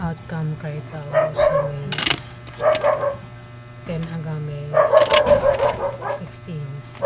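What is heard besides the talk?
dog barking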